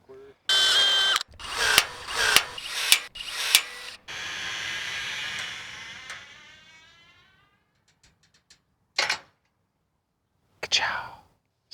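Riveting an aluminum fence gate: a quick run of sharp, loud mechanical snaps close by, then a hiss that fades away, and two more isolated snaps after a quiet pause.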